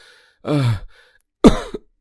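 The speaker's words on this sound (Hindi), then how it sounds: "यार बहुत खांसी हो रही है" Two separate human coughs, close and fairly loud, with a short pause between them and a soft breath in the gaps, in a cartoon.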